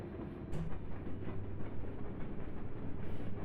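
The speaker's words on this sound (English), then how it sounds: "Oh, there's a train up there." A train rumbles past in the video game Euro Truck Simulator 2, a steady low rolling drone with faint rhythmic clatter, moderately distant and alone without talk.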